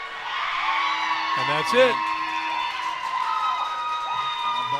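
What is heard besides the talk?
crowd cheering at youth lacrosse game after final goal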